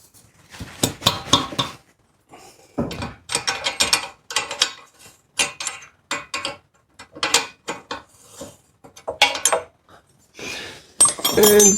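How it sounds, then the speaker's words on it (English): A 17mm ring spanner clicks and clinks against an exhaust nut while removing an exhaust system, giving a run of sharp metallic ratcheting taps in irregular bursts, close and moderately loud, with no talk. "You can slip over the wiring and go up to the nut, and it still acts like a ring spanner."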